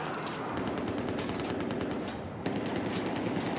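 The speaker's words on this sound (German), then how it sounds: "da oben wird direkt wieder kräftig geschossen" Rapid automatic gunfire crackles in a Battlefield 4 multiplayer match, dense bursts of shots rattling continuously with a sharper report near the middle, loud and without talk.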